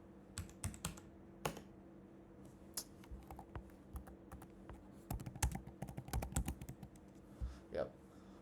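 Fingers typing on a computer keyboard in irregular bursts of clicks and key taps, close and fairly quiet, with a faint steady hum underneath and a pause before a final flurry.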